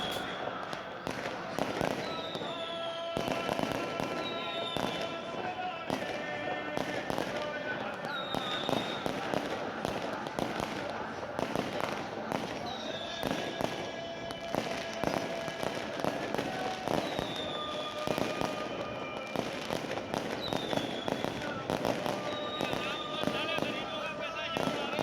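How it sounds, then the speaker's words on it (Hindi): Fireworks and firecrackers bursting in a dense, continuous barrage at a Milad celebration for Maula Ali's birth in Nashtar Park, with repeated crackles and whistling rockets and voices faintly mixed in. "क्या ज़बरदस्त फायरवर्क्स हुए हैं"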